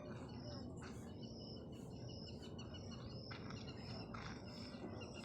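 Several sparrows chirp in quick, repeated bursts as grain is scattered, over a quiet background hiss, with insects faintly buzzing throughout.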